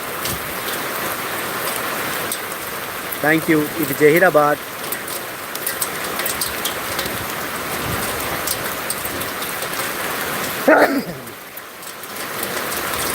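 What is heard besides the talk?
heavy rain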